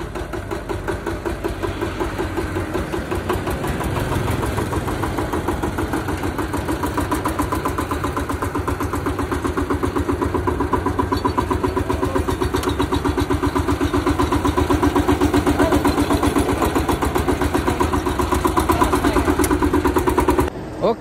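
A VST tractor engine runs steadily for the whole stretch, a close, loud, continuous mechanical chug that holds an even level and swells slightly toward the end.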